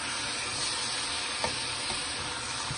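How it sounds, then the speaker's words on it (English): Onions caramelizing in butter sizzle steadily in a pan, a constant close frying hiss with a few faint stirring clicks, no voices. "So what we're doing is caramelizing the onions."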